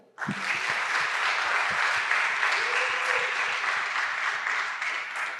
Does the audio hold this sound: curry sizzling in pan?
no